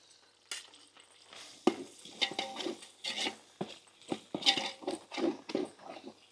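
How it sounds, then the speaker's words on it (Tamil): Masala spices, chilli powder, biryani masala and garam masala, are sautéed in a pan with a spoon scraping through them in irregular bursts of scraping and sizzling, loud and close, with no voices. "இப்போ வந்துட்டு நம்ம மசாலாவை போட்டு நல்லா வதக்கிப்போம்"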